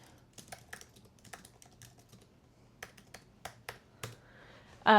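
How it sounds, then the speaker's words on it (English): Keystrokes on a computer keyboard while a tattoo studio's digital consent form is filled in, quick irregular clicks in bursts with short pauses, close and fairly quiet, ending in a louder tonal burst. "I, again, have a hard time typing while talking"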